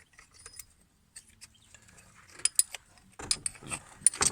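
Sparse metallic clicks, taps and scraping come from a starter motor being fitted into a VW Golf 3, with a busier rattle of parts toward the end.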